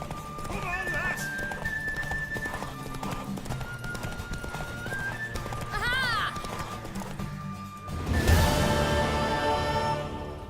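A horse gallops with rhythmic clip-clop hooves in The Witcher 3: Wild Hunt, with whinnies and neighs over music and voices, swelling into a louder rush of hooves and noise near the end.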